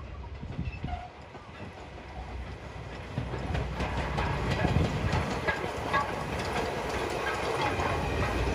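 A JR Kyushu type 8620 steam locomotive rumbles past near Arao Station with rhythmic metallic clanking and clatter, growing louder and staying steady, close by and outdoors.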